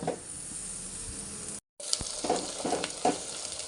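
Green chillies fry in a pan for a chicken and drumstick curry, a steady sizzle that breaks off for a moment, then resumes with a few stirring clatters.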